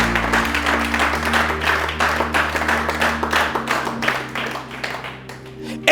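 A church congregation claps and applauds together in steady, dense applause over sustained organ or keyboard chords, with the clapping thinning slightly toward the end.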